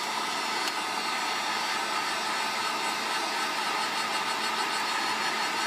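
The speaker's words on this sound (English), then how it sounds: "It's a heat gun on low." A heat gun running on its low setting warms the glue under a Nokia Lumia 1020 phone screen, producing a steady, close, even blowing hiss with no pauses.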